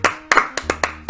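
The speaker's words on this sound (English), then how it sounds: "Applause for you, Ruffles." About six sharp hand claps in quick succession, close and crisp, from one or a few people.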